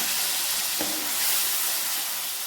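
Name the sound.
spinach sautéing in tempered oil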